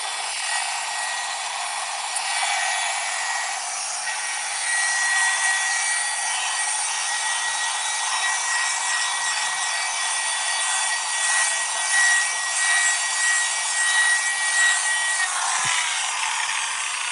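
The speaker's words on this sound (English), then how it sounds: "Don't want to compound this too much" A machine polisher runs steadily while compounding the paintwork on a VW Beetle, giving a loud, continuous high whirring hiss with slight swells in intensity and no speech.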